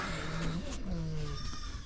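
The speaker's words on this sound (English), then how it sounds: "Got all the female goaty goats here." Female goats bleat in a farm pen during a morning routine, with a couple of close, wavering cries that overlap one another across a short stretch.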